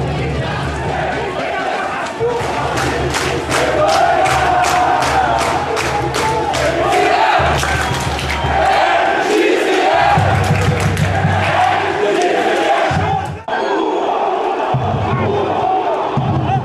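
Guarani football supporters in a stadium chant a loud protest at the coach after a 2-0 defeat, a rhythmic mass shout that swells and holds for most of the stretch, then briefly drops before resuming.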